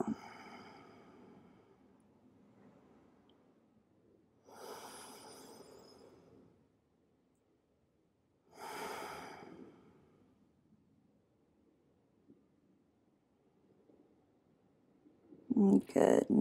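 Deep exhales during a beginner yoga class: three long, close, breathy releases separated by quiet pauses, then a louder, rougher burst at the end.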